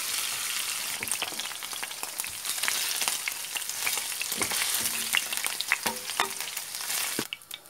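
Onion, garlic and ginger fry in oil for chicken karahi, a soft continuous sizzle dotted with crisp pops and occasional stirring clicks, without any voices.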